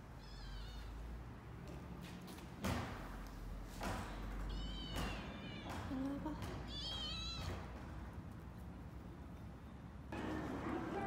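A street cat meows a few times, faint and somewhat distant, over steady outdoor background noise, with a person talking softly nearby.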